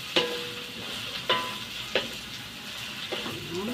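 Fish cake and mushroom cake fry in a pan for yellow mee, a continuous soft sizzle of oil with a few sharp clinks of a utensil against the pan at uneven intervals.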